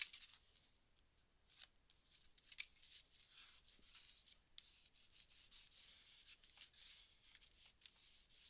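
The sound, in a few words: burnishing paper down for a Christmas card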